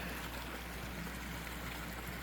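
A lit-up garden waterfall runs with a faint, steady trickle and splash heard alone in quiet early-morning cold.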